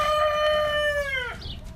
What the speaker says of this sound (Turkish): Ros 308 cinsi etlik tavuklarımız gördüğünüz gibi hepsi yürüyebiliyor.